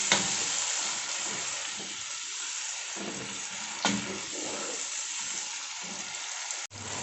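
Chopped tomatoes frying for aloo gobi give a broad, even hiss close up, with stirring scrapes and a couple of sharp knocks of the spoon against the pan; nobody speaks.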